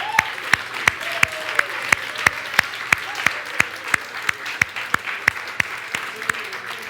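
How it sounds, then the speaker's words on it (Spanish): Church congregation at a Good Friday service clapping together in a steady, even rhythm, about three crisp claps per second, sustained throughout. "Den un aplauso al Señor."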